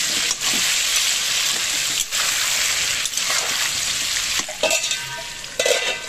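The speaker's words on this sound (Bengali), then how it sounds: "ভালো করে পেঁপেটাকে নেড়ে চেড়ে ভেজে নেব।" Papaya pieces fry in hot oil with salt and turmeric, giving a steady, close, loud sizzle broken by a few scraping stirs of the spoon in the pan.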